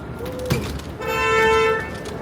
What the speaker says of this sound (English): That jerk off's honking the horn.